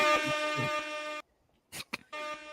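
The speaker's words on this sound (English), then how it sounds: "You see background music, and it's the DJ air horn." A blaring DJ air horn blast sounds, cuts off, then brief noisy bursts follow before the horn blares again, loud and close.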